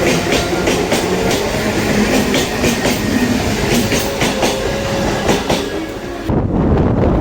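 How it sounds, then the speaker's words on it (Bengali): A local train on Indian Railways runs along the rails near Kalinarayanpur junction toward a rail bridge, with a steady loud rumble and rhythmic clickety-clack of wheels throughout and a sudden shift in tone near the end. "এই মুহূর্তে আমরা পার করতে চলেছি কালীনারায়ণপুর রেল ব্রিজ"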